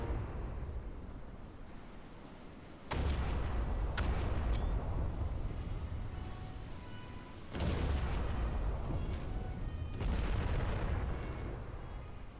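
Heavy naval gunfire from a warship in the video game Battleship Command booms out in a few sharp blasts separated by seconds, each followed by a rumbling tail over a continuous low din.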